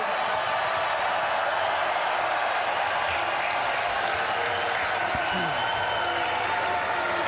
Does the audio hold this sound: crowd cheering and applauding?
yes